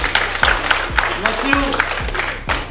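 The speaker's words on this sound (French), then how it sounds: "Vous pouvez l'applaudir" Crowd at a No Limit course applauding a child with rhythmic clapping in a steady beat, roughly two claps per second, while a voice speaks over it.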